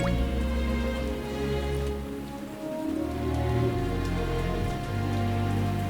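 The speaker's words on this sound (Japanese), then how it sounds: "今日の雨はよく降るな。" Heavy rain pours steadily in Uma Musume, a dense, even hiss of drops on surfaces that stays loud and unbroken throughout, with no voices.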